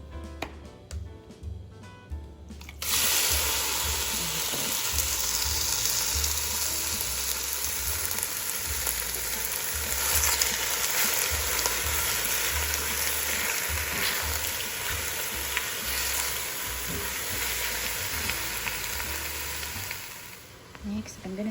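Chicken hits a pan of hot oil for chicken mushroom soup and bursts into a loud, steady sizzle of frying that holds throughout, with a few stirring scrapes and no talk.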